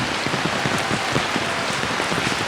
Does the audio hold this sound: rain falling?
yes